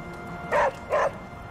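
Charlie, a dog in the video game Marvel Midnight Suns, gives two short, clear barks in quick succession over a steady quiet background hum, with no talking.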